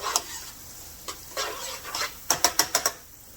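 Brown sugar mixture is stirred in a hot sizzling pan, with scattered scrapes and then a quick run of five sharp utensil clacks against the pan over a faint sizzle.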